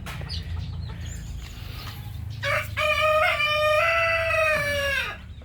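Native chickens in a backyard, with low clucking from hens and chicks and then a loud, close rooster crow lasting a few seconds.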